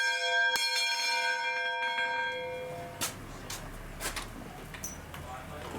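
Church bells ring in São João, one bright strike left to hum and decay before a few further clanging strokes, with someone speaking over the fading tones.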